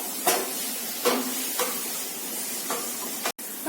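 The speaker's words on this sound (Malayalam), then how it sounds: "നന്നായി ഒന്ന് വഴറ്റിയെടുക്കാം." Ginger and garlic sautéing in a pan for a toddy-shop style pork fry, a steady soft sizzle with a few louder stirring scrapes of the spatula at intervals.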